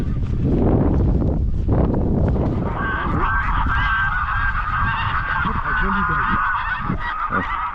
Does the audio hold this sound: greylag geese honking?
yes